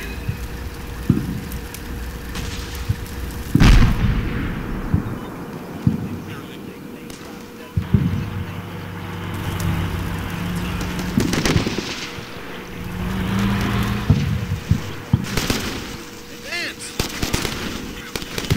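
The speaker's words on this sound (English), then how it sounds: "Still taking rocket fire" Rocket fire and explosions in the war game Combat Mission: Shock Force, with scattered booming blasts and sharp cracks at irregular intervals over a low rumbling battle bed.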